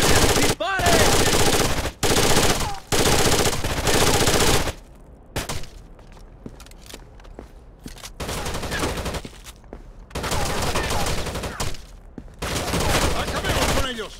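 Rapid bursts of automatic gunfire in Rainbow Six: Vegas, loud and close, broken by short pauses, with shouted voices at points.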